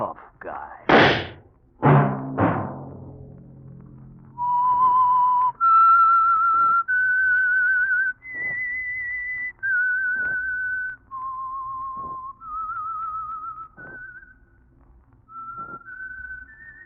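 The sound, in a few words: whistled theme signaling The Whistler radio program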